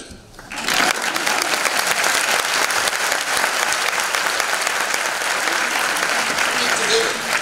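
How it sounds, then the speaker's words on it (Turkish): An audience applauds at the end of a talk, a dense, sustained burst of clapping that starts abruptly after a brief quiet moment and continues loud and even throughout. "Yani alkışlayarak bitirin."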